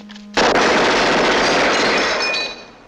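Automatic weapon fire in a film scene, a loud, dense and continuous roar of rapid shots that keeps going for about two seconds after a short tone and then cuts off.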